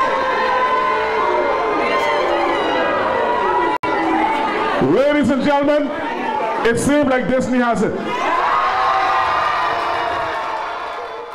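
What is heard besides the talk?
town hall crowd applauding and cheering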